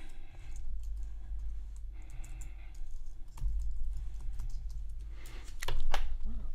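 Someone taps out a name on a computer keyboard, irregular clusters of close, light key clicks over a low steady hum, with a few sharper strokes near the end.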